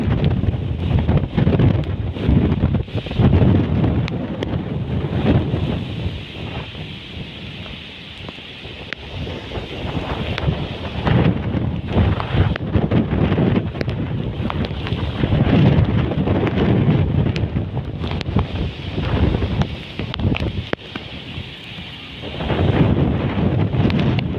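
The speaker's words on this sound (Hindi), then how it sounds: "चंगी तेज हवा है।" Strong wind roars and gusts against the microphone in a village after rain, in loud, rumbling surges that rise and fall continuously, with no one speaking.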